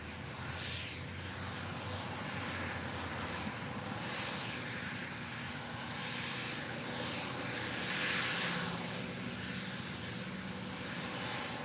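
An airliner rolls for takeoff on runway 25 left at LAX, a steady distant jet engine roar that swells gradually and peaks near the end, with no voices.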